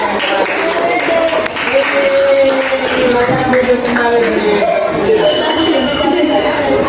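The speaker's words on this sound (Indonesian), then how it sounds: "sekali lagi tepuk tangan lagi untuk kamu" Students in a classroom clap for a classmate, with moderately loud, uneven applause mixed with chatter and voices throughout.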